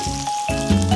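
Squid hitting a very hot pan with onion and green onion and starting to stir-fry: a loud, continuous sizzle close up with a faint tonal hum running beneath it.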